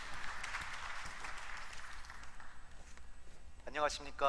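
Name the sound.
audience applause welcoming speaker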